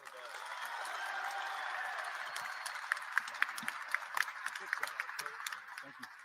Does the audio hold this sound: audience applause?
yes